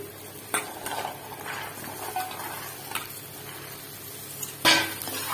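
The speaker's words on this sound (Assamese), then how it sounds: "আকৌ কিছু সময় ভাজিম এনেকে।" Peas frying with tomato and spices in a pan, stirred with a utensil: scattered scraping and clinking strokes over a steady low sizzle, with a louder clatter near the end.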